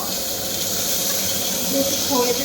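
Two bay leaves and whole spices hit hot oil for tempering in a Bengali kitchen, producing a continuous close hiss and sizzle with slight swells toward the end.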